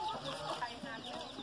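Farm hens clucking inside a coop during egg collection, a busy scatter of short clucks and calls close by, with faint human voice sounds mixed in.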